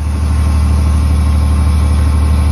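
A large engine generator at a biogas plant on a dairy farm drones loudly and continuously nearby, a deep steady rumble with a dense mechanical hum and no voices.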